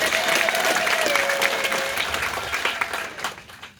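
A church congregation in Kilungu, Ukambani, bursts into sustained applause: dense, steady clapping from many hands that stays loud, then thins and tapers off toward the end.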